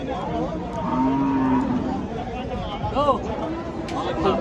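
Cattle at a busy cattle market let out a long low moo and then a shorter call nearby, with market chatter and people talking all around.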